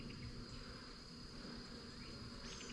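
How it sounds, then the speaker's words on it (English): A large swarm of honeybees in May, a big ball of bees hanging overhead, gives a steady, continuous hum at moderate level with no pauses, sustained throughout. "You ever stood right underneath a beehive before? Well, swarm of bees."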